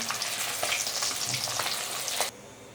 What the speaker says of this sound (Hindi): इस तरह से चारों तरफ से हम पलटते हुए फ्राई करते हैं।